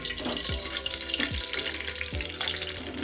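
Whole spices crackle and sizzle as they hit hot oil for pulao, a dense hiss with a few soft clicks and thumps from the pan.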